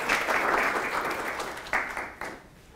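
A seminar audience applauds steadily, a dense, moderately loud patter of clapping that swells briefly and then tapers off toward the end.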